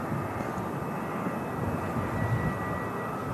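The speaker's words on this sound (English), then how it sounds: "And this EasyJet in from Malaga, A319." An easyJet Airbus A319 arriving from Malaga at Manchester Airport, a steady broadband jet roar that holds even and moderately loud throughout, with no voices over it.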